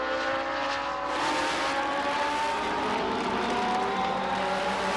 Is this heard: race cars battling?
yes